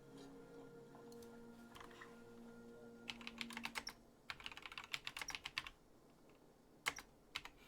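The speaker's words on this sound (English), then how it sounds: "why am I typing this to you?" Fast bursts of clicking keystrokes on a computer keyboard, close and fairly quiet, starting and stopping in irregular flurries over a faint background hum.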